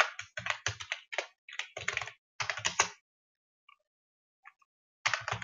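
Typing code on a computer keyboard: bursts of quick, close key clicks in uneven runs, a long quiet gap with a couple of faint taps, then typing resumes.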